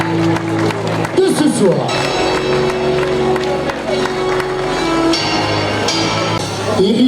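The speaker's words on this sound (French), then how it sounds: "Allez, applaudissements pour les 6 machines" A crowd claps and cheers for the finishers of a trail running race at the Fêtes de Téthieu, sustained applause rolling along beneath a loud announcer speaking French over a public address system.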